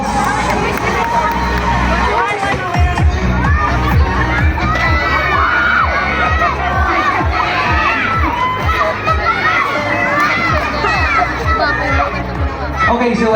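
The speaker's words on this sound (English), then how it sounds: "Again, let's give her another big round of applause." Loud crowd cheering and shouting at a public market beauty pageant, with children's voices and whoops over a dense, sustained roar of noise and clapping.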